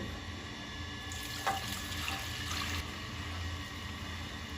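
Milk poured into a pan over roasted ingredients for a healthy Kerala payasam, heard as a steady close liquid pour lasting a couple of seconds with a brief splash at the start, over low kitchen background noise.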